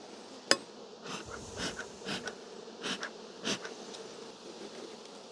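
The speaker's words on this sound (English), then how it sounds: "Lots of bees." Honey bees swarm around an open beehive's brood chamber during a hive inspection, a dense steady buzz rising and falling as individual bees fly close past, with a sharp sticky click near the start and no talking.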